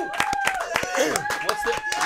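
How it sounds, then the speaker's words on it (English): A small group in a broadcast control room claps a brief round of applause, scattered hand claps mixed with cheering voices and excited chatter over a steady background hum. "Can we have a control room round of applause for Philip Seymour"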